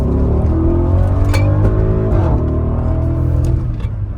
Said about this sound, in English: Let's come out of this and accelerate.